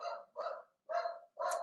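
A small corgi mix dog barks four times in a steady rhythm, each bark full and fairly close, with short pauses between them.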